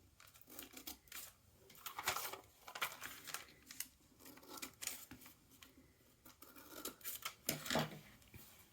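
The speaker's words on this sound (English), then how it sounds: "I'm going to cut these straight in." Scissors cutting paper for a handmade treasure journal, several irregular close snips and rustles with quiet pauses between them.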